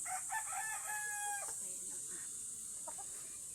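A rooster crows once at a distance, followed by faint clucking from hens in a quiet backyard yard.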